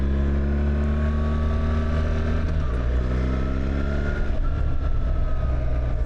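A BMW R1300GS motorcycle engine roars close and steady, pitch climbing and dipping as the bike accelerates through corners, with a shift-like drop partway through and continuous wind noise.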